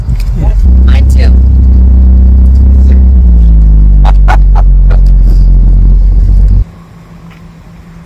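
A Ferrari 488 Spider's engine fires up with a loud, deep sustained rumble and rising revs, then drops to a quieter idle near the end; voices talk briefly over it.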